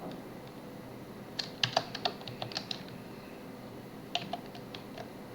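Sparse clicks of keys on a computer keyboard in a quiet room, a short burst of several quick taps, a pause, then another brief flurry near the end, with no talking.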